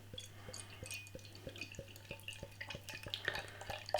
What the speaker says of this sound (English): So beer pouring out.